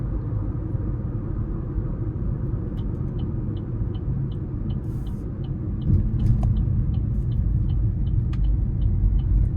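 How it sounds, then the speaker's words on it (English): Cabin drone of a 2026 Chevy Trax 1LT with the 1.2-liter turbo engine pulling hard onto an interstate, a steady low rumble of engine and road noise that swells louder partway through, with a faint ticking repeating in the background. "Now I'm going to try to give it a pull getting on the interstate here."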